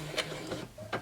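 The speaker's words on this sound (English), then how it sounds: "So I'm just going to stitch and leave maybe like an inch or an inch and a half to 2 inches of a gap." A sewing machine back-stitches a small doll diaper with a short, close mechanical chatter that pulses briefly about three times.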